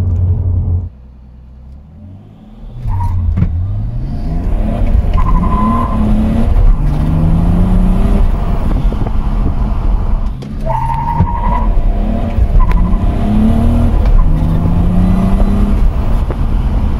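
A BMW E46 on new tires launches hard from 0 to 100 km/h, its engine revving loudly and climbing through gear changes, with a brief drop between two full-throttle pulls, heard close and strong.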